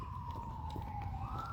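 Wailing ambulance siren holds a steady tone that rises toward the end, loud and continuous, likely a few emergency vehicles close by on a stressful day with a baby needing care.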